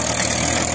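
A Swaraj 855 tractor engine runs steadily at a loud, close, even drone, a continuous diesel rumble with no pauses, working in a dusty field.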